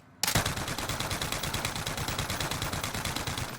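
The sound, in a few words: gunfire in a video game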